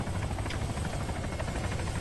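A hovering helicopter in ARMA 3 drones steadily with a loud, dense rotor roar and rhythmic blade thumping that stays constant throughout.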